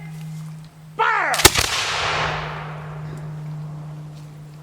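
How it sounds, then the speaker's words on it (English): A musket fired on command gives one loud, booming discharge, preceded by a sharp metallic snap and followed by a long fading rumble outdoors over a steady low hum. "Full cock, aim, fire!"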